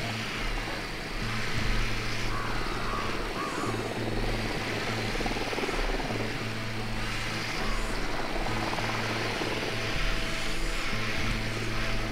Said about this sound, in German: Hubschrauber im Anflug.